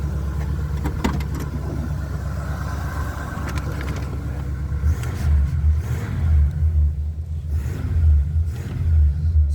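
A 1965 Oldsmobile 98 luxury sedan revs through its factory exhaust and muffler setup, a deep, steady rumble close by that swells louder toward the end, with no one talking over it.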